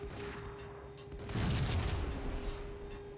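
A grenade detonates in the Max Payne shooter game, a deep booming blast that swells after a quieter stretch of game ambience and steady hum, then rumbles on and slowly decays.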